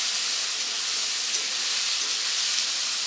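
Tomatoes fry in a pan, giving a continuous, even broadband sizzling hiss at steady loudness with no talk.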